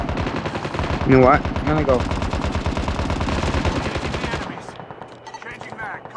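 Rapid automatic gunfire in Call of Duty Mobile, a dense, loud continuous burst lasting several seconds before easing off, with a player talking briefly over it.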